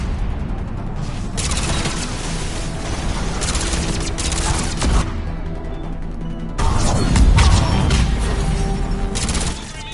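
Gunfire in a Mass Effect 3 battle, with sustained bursts and crashing impacts for several seconds and a louder barrage near the end. Faint voices come in under the shooting.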